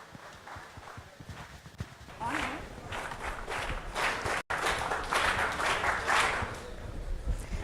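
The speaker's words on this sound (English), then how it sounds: "Let's welcome Cadet Anisha to the stage with a thunderous round of applause." An audience at a school TEDx youth event applauds a cadet walking to the stage, fairly faint at first, then swelling into steady, moderately loud clapping with a brief dropout midway.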